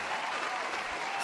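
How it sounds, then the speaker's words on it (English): A crowd gives Dawson a brief, dense burst of applause in a short, even wash of clapping. The context is the Buffalo Bills' 31-7 playoff win over the Denver Broncos. "round of applause of the season for Dawson"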